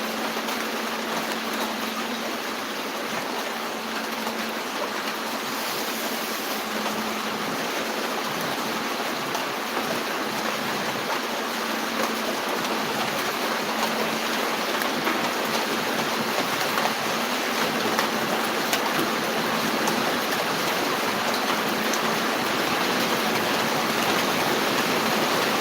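Heavy rain pours down steadily outdoors, a dense, unbroken wash of hiss and patter that stays loud and even throughout, with a faint low hum underneath and no talking.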